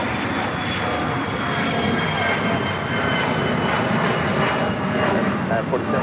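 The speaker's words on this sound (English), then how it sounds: "Ita arriving on the north side and Fiji here on the south side, both A350-900s." An Airbus A350-900 jet arrives at LAX with a loud, steady engine roar lasting several seconds, broad and rumbling, with a voice talking over it.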